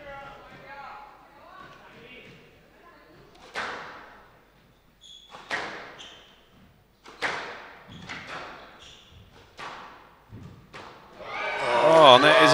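Squash ball shots in a girls' junior world championship final: several sharp, echoing thwacks spaced a second or two apart in an indoor court, under a commentator's voice and rising crowd noise at the end.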